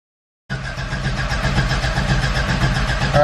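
A Subaru engine swapped into a VW Vanagon cranks briefly after a moment of silence, catches and settles into a steady, loud, close running idle.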